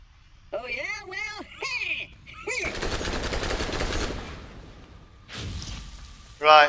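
A rapid burst of automatic gunfire from Borderlands shooting at a robot enemy. It rattles for about a second and a half after electronic warbling game tones, and a shorter burst follows later.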